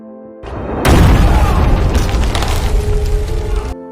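Cannon fire in a war film set in the Spanish–Philippine conflict, with revolutionary troops shelling a church: a deep, loud boom that erupts sharply and rolls on as a long sustained rumble with crackling debris, no voices.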